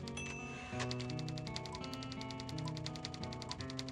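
Rapid rhythmic typewriter-style clacking from a character typing in the video game Thimbleweed Park, evenly spaced keystrokes over looping game music with no talking.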